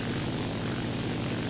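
A TBD Devastator torpedo bomber's propeller engine drones in a video game, a steady, dense, unbroken roar with no talk over it.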